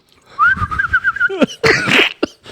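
A person whistles a wavering, warbling tune of about a second, then breaks into voiced, expressive vocal sounds with a couple of sharp bursts, close and loud.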